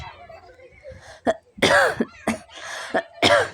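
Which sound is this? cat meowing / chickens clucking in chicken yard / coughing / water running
coughing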